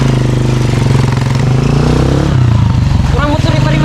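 A motorcycle engine runs close by with a loud, continuous mid-pitched drone while people talk over it.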